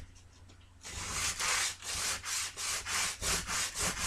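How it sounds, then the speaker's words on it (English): Sandpaper rubs back and forth on a painted wooden piece with sharp corners, a close, steady series of about nine strokes in regular rhythm after a quiet start. "I'll maybe try with another kind of sandpaper."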